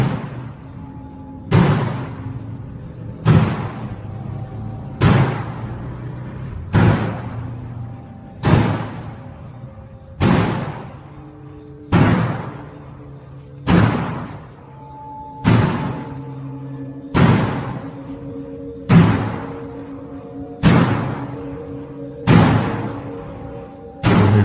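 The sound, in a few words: red door opening and slamming shut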